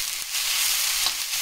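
Chopped onion fries in a new cast iron kadhai being seasoned, giving a steady, loud, dense sizzle with crackly spatter that holds evenly throughout, with no talking.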